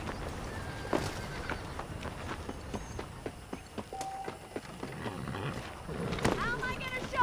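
Horse hooves clop irregularly with occasional snorts and a whinny, mixed with scattered game sound effects at moderate volume, from Red Dead Redemption on PC.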